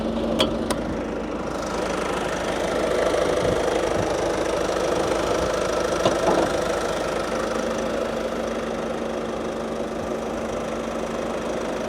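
A 2016 Ford Kuga's engine idles steadily with a low, even hum and faint mechanical ticking, holding a constant level throughout with no talking.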